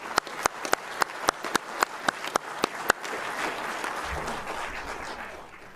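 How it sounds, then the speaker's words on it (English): At a cardiac arrest survivors' reunion event in Kent County, Delaware, one person claps about ten times in an even rhythm. Fuller audience applause then swells up for the distinguished guests and continues to the end. "A round of applause, please, for our distinguished guests."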